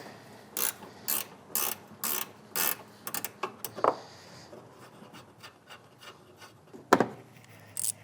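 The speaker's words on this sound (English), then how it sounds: "Now we have a 10mm nut right here we need to remove." A hand ratchet clicks in quick repeated bursts while loosening a 10mm nut on the intake box of a 2015-2021 Subaru WRX FA20F, close up, followed by scattered small metallic knocks and rubbing.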